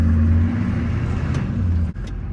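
A Duramax diesel pickup engine idling, a steady loud low rumble with a faint upper whine, close by, dipping briefly near the end, no talk.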